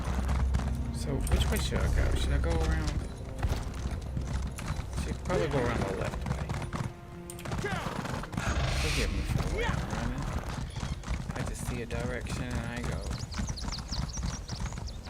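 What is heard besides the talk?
horse hooves clip-clopping in a video game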